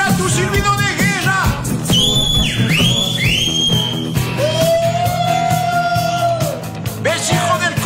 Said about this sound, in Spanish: ¿Y cuál era tu silbido de guerra?